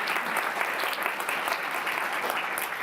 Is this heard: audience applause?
yes